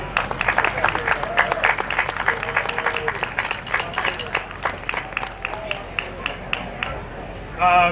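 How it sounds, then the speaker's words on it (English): Festival crowd applauding a big band singer at an outdoor fall concert, a steady wash of clapping with a few sharp close claps, murmured voices underneath, fading slightly toward the end. "Another round of applause for Diane."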